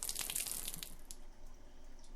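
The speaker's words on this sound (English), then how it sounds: "When I open the valve, I will drain the water out until all the water has been removed." Water gushes and drains through an opened valve in The Last Door, a steady rushing hiss that is strongest at first and then eases slightly.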